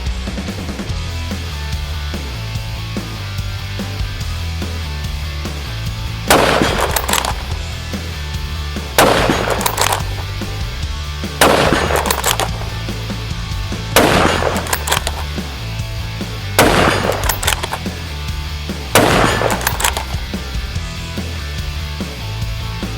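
Five loud, sharp rifle shots from a CZ 600 Trail chambered in .223 Remington, fired at a steady pace about two to three seconds apart over a low constant rumble.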